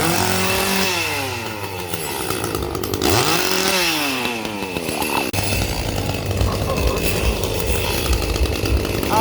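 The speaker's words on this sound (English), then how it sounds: "I love a good chainsaw." Chainsaw engine revving loudly and continuously at a Halloween haunt event, its pitch sweeping up and down through repeated throttle bursts, then settling into a steady droning idle, close by with no talk.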